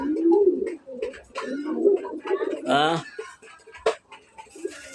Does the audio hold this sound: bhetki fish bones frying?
no